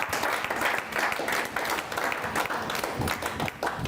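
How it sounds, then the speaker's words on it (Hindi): Applause from an audience welcoming a poet at a poetry recital, a continuous, even patter of many hands clapping that sounds moderately close, with no speech over it. "भाई विनीत चौहान का हम तालियों के साथ स्वागत करें उनके काव्य पाठ के लिए।"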